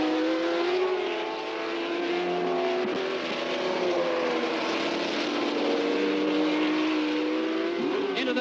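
1967 Formula One Grand Prix cars race on a wet track at Mosport Park in Canada, a constant loud engine roar with wavering pitch and a faint swell as a car passes.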